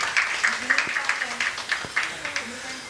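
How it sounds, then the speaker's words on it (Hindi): An audience applauds to welcome Jheel Singh onto the stage at a Bundeli folk dance competition, with rapid, fairly steady clapping throughout and a voice speaking over it. "एक बार तालियों के साथ अभिवादन झील सिंह जी का"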